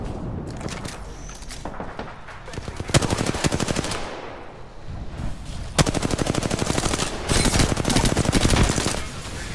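Automatic gunfire in Apex Legends on Kings Canyon at night comes in rapid, close bursts. Rattling strings of shots stop and restart several times and grow louder and denser toward the end.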